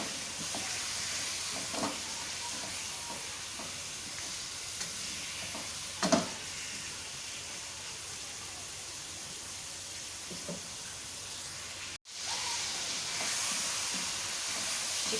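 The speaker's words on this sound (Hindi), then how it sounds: "तकरीबन ½ टीस्पून नमक डालूंगी अभी मैं, और इसको भून लेंगे अच्छी तरह से।" Chicken pieces with salt, garlic and green chili paste fry in a pan as a continuous loud hiss, broken by a few soft scrapes of stirring and a brief dropout near the end.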